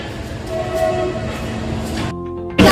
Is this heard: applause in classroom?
no